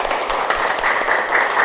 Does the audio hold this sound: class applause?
yes